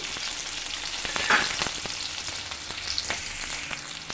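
Onions frying in a pan of oil for a pulao and sherwa, with a steady broadband sizzle and occasional stirring clicks and scrapes, no talk.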